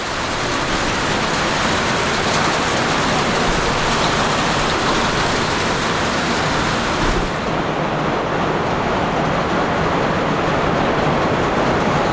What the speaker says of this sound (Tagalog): Tingnan nyo, grabe ang ulan.